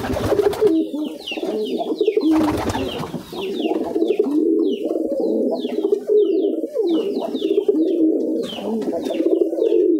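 Pigeons coo steadily and overlap one another, with a newly added white pigeon calling among the flock. The low, throaty cooing runs nearly continuously and close, with faint higher chirps and rustles in the background.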